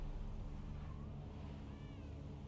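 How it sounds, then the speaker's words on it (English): Cat meowing in The Witcher 3, two faint, brief rising mews against a constant low ambient rumble, with no talk. "That's not a normal cat."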